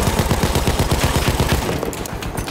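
Rapid automatic fire from a medic's gun in Battlefield 1 during Sinai Desert Conquest, a loud, close, steady stream of shots that thins slightly toward the end.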